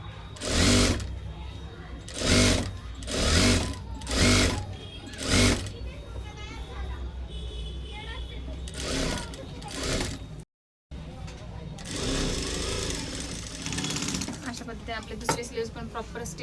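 A sewing machine stitches a sleeve onto a four-tuck blouse in several loud bursts with short pauses between them, while someone talks over much of it.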